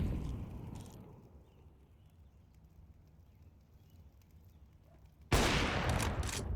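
Gunfire in Counter-Strike on the Mirage map during a pro match: a burst at the start fades to a quiet stretch, then heavy, continuous shooting erupts loudly near the end.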